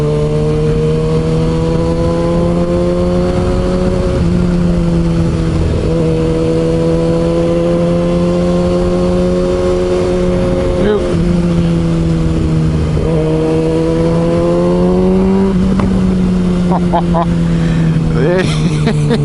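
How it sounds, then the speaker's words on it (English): A Kawasaki ZX6R motorcycle engine revs loudly and continuously while riding, pitch rising and falling through gear changes, with sharp exhaust pops and crackles on deceleration near the end. "Oh, it does have a nice little poppy cracky, this bike"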